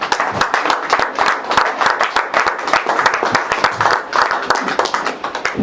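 A church congregation applauds during a worship service, a dense, steady wash of many hands clapping together close by, sustained throughout without pause.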